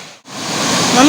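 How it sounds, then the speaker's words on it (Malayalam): The Choriyankunnu waterfall gives off a steady, loud broadband rush of falling water that swells in after a brief dip and continues for about a second. "നല്ല അടിപൊളി വെള്ളച്ചാട്ടം കേട്ടോ,"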